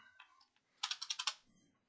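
A short, faint flurry of computer keyboard keystrokes, about five quick clicks in a row, preceded by a soft tonal sound.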